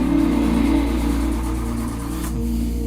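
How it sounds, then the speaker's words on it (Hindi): A car engine cranks without catching after the vehicle stalls on a forest road used by elephants, a loud, steady, grinding mechanical drone that fills the whole stretch with no voices. "भाई गाड़ी स्टार्ट होगी कि नहीं?"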